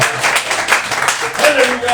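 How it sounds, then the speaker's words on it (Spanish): A church congregation claps in a dense, rhythmic burst of applause during worship, loud and close. "Dale un fuerte aplauso a mi Dios"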